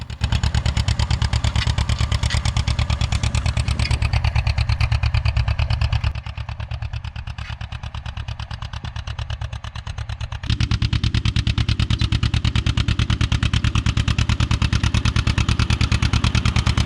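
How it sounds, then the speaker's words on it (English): An old John Deere tractor engine runs steadily on a small farm, its low, rhythmic chugging loud and close throughout with a clattering mechanical pulse, briefly softening in the middle before returning at full strength. "that classic sound of an old John Deere engine"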